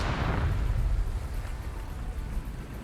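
A satchel charge blast in an online shooter game, a loud rumbling low-frequency explosion that rolls on and slowly decays across the whole stretch, with no talk over it.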